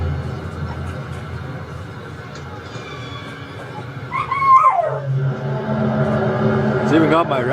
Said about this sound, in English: It's even got my dogs barking.